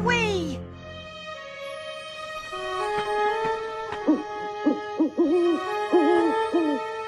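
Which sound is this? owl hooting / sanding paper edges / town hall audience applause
owl hooting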